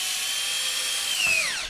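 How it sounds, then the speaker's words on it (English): A power drill whines steadily as it bores a hole into PVC pipe, a continuous high motor tone that dips in pitch near the end before stopping abruptly. "I'm going to very carefully make sure my drill is straight up and down"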